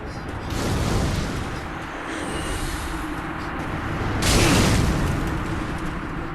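Firebombs thrown by fire bomber enemies in Dark Souls burst into fiery explosions, with a rumbling broadband roar that swells and peaks in one loud blast near the end over a continuous low din.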